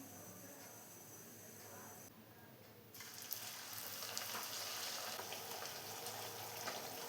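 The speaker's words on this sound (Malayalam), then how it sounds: "ഇപ്പോൾ ഒരു പാൻ വെച്ച് ഓയിൽ ഒഴിച്ച് ചൂടായി വന്നിട്ടുണ്ട്. നമുക്ക് ഓരോന്നായിട്ട് ഇതിലോട്ടിട്ട് ഫ്രൈ ചെയ്തെടുക്കാം." Pathiri, a flatbread of semolina and flour, sizzling in a pan of hot oil on medium flame, a steady faint crackle that grows louder and busier after a short dip.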